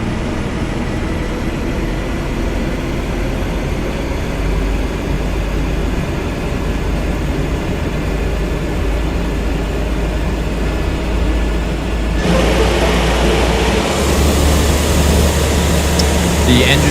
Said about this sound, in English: The engine sounds are pretty good.